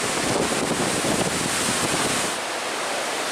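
Lake Superior waves roll onto the shore at Pictured Rocks, Michigan, a loud, continuous roaring wash mixed with gusty wind buffeting the microphone, easing slightly near the end.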